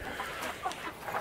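Chickens cluck in a coop in a steady, close, low-level stream of short overlapping clucks, with no talking.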